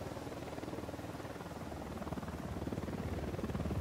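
A patrol helicopter in Ghost Recon Wildlands drones steadily at moderate distance, its rotor chop pulsing low and growing a little stronger and more rhythmic toward the end, with no voices over it.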